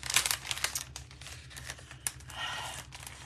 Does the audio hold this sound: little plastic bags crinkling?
yes